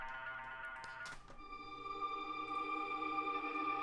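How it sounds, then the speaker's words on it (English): A sustained tone with delay repeats, echoing copies trailing after a brief transient and ringing on steadily. "Some delay on it"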